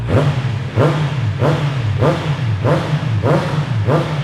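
A 2017 Honda CB650F motorcycle on its stock exhaust revs at close range in six or seven quick, evenly spaced blips over a steady idle, each one climbing fast and dropping back cleanly.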